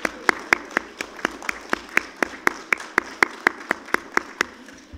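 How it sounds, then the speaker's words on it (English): Church congregation applause at a livestreamed service, heard as a sparse, evenly spaced run of single sharp claps in a steady rhythm, moderately loud and alone without talk. "Let's give them a round of applause."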